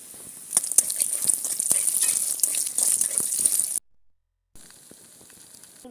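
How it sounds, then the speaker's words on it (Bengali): Pumpkin bori, lentil dumplings, fry in a pan with a close, crackling sizzle full of small pops, then a sudden break of near silence before fainter frying resumes. "আমি এখন কুমড়ো বড়ি ভেজে নেব।"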